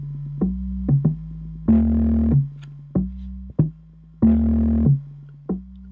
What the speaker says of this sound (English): I also added like external bass line just off my Korg